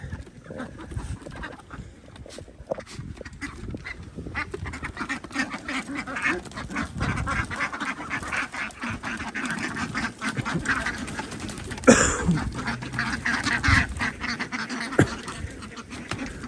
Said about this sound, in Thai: วันนี้เรามาส่งเป็ดนะครับ